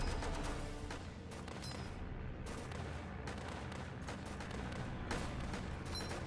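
Gunfire from the World War Tower Defense video game, heard as dense, continuous shooting and bursts of fire that run loudly through the whole stretch, with short sharp cracks layered over a constant rumbling bed.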